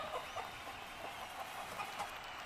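A rooster clucks during a cockfight, the repeated throaty clucks soft and somewhat distant over a faint background hiss, with no voices.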